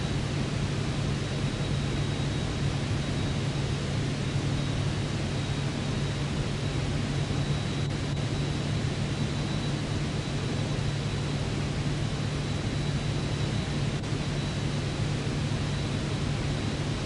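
Constant rushing wind noise inside a small plane flying at night, a dense unbroken roar over a low steady drone, with no voices.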